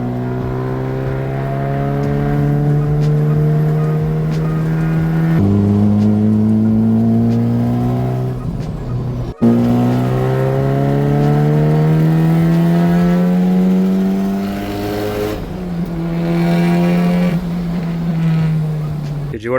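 A 500hp K24-swapped Mazda Miata accelerates hard, its engine note climbing in pitch through several gear shifts, loud and close throughout the clip.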